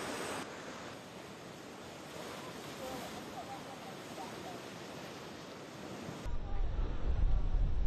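Rough ocean surf churns during Atlantic storm Hurricane Lee, a loud, continuous roar of crashing waves with heavy wind buffeting the microphone, strengthening toward the end.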